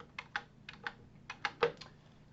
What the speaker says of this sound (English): let's go ahead and type this guy in